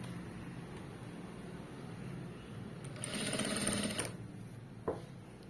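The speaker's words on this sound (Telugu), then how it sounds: "ఇలా ఫోల్డింగ్ చేసేసుకుని స్టిచ్ చేసుకుంటూ వెళ్ళిపోండి" A sewing machine stitches folded thread piping. Its low, steady motor hum rises into a louder run of rapid stitching for about a second, followed by a single short clack.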